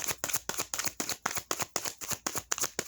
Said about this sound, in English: sometimes I like to shuffle in front of you guys too and just get even more shuffles